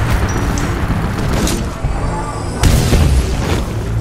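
A Titan blows up in Titanfall 2, a loud booming blast with a second heavy burst shortly after, over a constant rumble of game noise.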